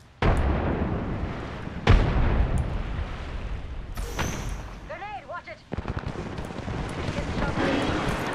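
A frag grenade goes off in the video game Apex Legends amid loud, booming battle blasts. Several heavy explosions hit in turn, with rumbling noise and a brief whistling sound between them.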